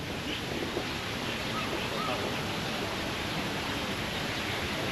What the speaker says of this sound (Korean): 여기 또 이렇게 폭포 같은 게 있고 오 물소리만 들어도 시원해